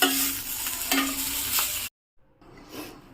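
Green chillies fry in butter in a pan, hissing and sizzling steadily for a couple of seconds, then a brief silence and a quieter return of the sizzle.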